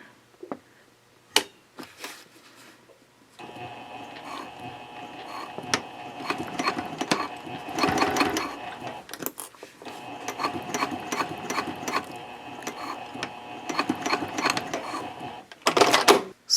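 A sewing machine stitches a Cordura fabric trifold wallet in two long steady bursts of rapid mechanical stitching, close and fairly loud, with brief clicks and pauses between runs.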